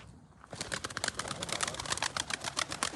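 Close pigeons coo and rustle in a steady run of soft, rhythmic calls after a brief quiet start, faint overall and with no talk.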